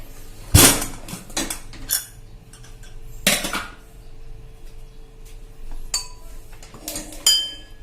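A pressure cooker lid is worked open with sharp metallic clanks and clinks, a few loud knocks spaced across several seconds over a quiet kitchen background.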